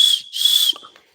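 A homemade carved wooden whistle gives two short, shrill, airy blasts close to the microphone, followed by a faint sputtering breath.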